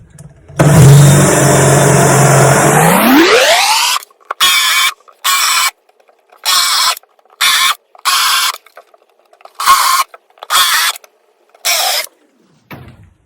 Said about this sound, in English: I'm making these 3/4 of an inch. I'm using a Forstner bit.